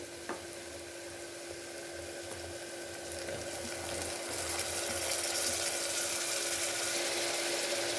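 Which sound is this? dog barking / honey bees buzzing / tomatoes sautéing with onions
tomatoes sautéing with onions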